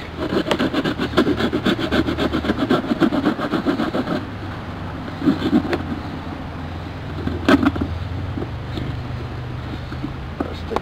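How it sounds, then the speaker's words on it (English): A hand saw cuts through tree bark to make a bark container. Quick, rhythmic rasping strokes fill the first few seconds, then sparser scrapes and knocks follow. "I'm doing this with a saw, but because to do it with a knife is really hard, it causes it to crack more"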